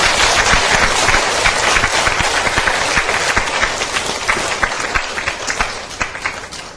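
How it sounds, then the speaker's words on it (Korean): Church congregation applauding during a sermon, a dense, loud burst of many hands clapping together that thins and fades slightly over several seconds. "이제 박수 한번 쳐줘야지요"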